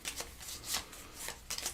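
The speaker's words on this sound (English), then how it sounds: "we will now shuffle these" Tapestry board game cards are shuffled up close in quick papery riffles. Short bursts of shuffling come in an uneven rhythm, quiet and nearby, with no talking.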